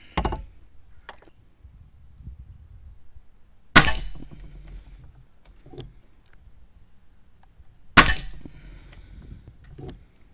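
Air rifle being test-fired after unboxing, three sharp cracks spaced several seconds apart, each with a quick metallic ring and the pellet striking a target, close and loud against a quiet room.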